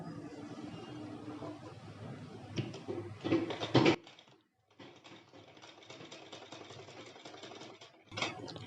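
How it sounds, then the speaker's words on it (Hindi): Sewing machine stitching kurti fabric, a steady mechanical whir with clattering bursts, briefly stopping mid-way before running again, close and moderately loud with no talk. "फिर सिलाई यहाँ से यहाँ तक आएगा।"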